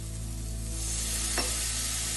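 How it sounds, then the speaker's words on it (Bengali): Spice paste with turmeric and cumin fries in a kadai for a fish roe curry, a steady bright sizzle with one short scrape of stirring partway through. "সামান্য পরিমাণে জল দিয়ে মশলাটাকে কষিয়ে নেব যাতে মশলাটা কড়াইতে লেগে না যায়"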